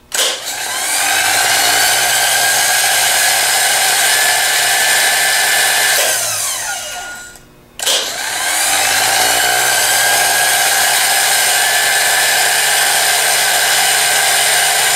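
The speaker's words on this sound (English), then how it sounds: "Now we're going to spin the starter up and listen to it spin up." A rebuilt Delco 42MT starter motor spins up on a test bench with a loud, steady high whine, winds down and cuts out near the middle, then spins up again and runs on.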